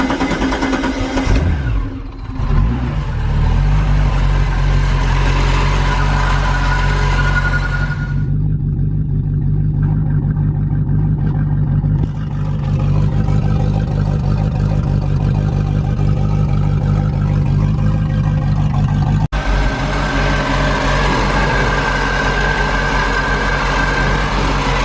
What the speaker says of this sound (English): Go ahead and start your motor and wait for it to pump out the back here.